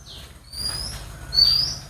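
Birds calling near a rural Gujarati home where peahens and pigeons gather, two drawn-out high calls ringing out clearly one after another over a quiet background.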